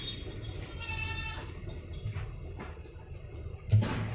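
Goats on a Hindustan goat farm, including pregnant does, bleat a few times at moderate distance, with a louder call near the end over steady farmyard background noise.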